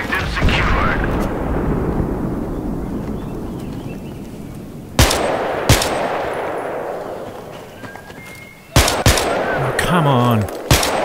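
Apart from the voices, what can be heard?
gunfire from snipers in a video game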